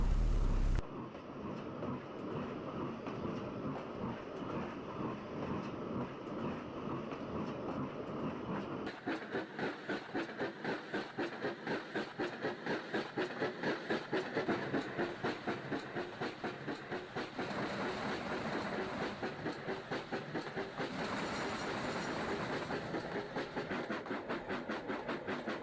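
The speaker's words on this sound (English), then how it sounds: "He just sulked as Gordon steamed away grandly" Steam engine train pulls away, its chuffing and clickety-clack settling into a fast, steady rhythmic beat over a sustained hiss, fairly close and building slightly as it gets going.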